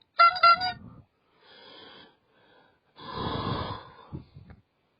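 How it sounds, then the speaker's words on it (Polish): A short, bright trumpet-like toot from an email notification sound sounds first, followed by a few softer electronic tones and a louder brassy blare, with brief pauses in between. "Mamy trąbkę. Mamy różne dźwięki."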